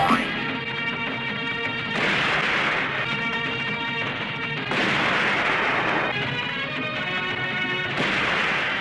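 Cartoonish bombs go off in loud bursts, with blasts striking at roughly two, five and eight seconds over a constant dense backdrop of music-like noise.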